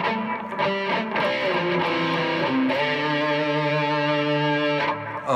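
A distorted electric guitar plays a short riff of power chords and single notes, loud and gritty, with no voices.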